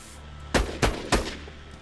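Three sharp, loud sniper rifle shots are fired in a video game, evenly spaced a fraction of a second apart and standing alone against a low background hum.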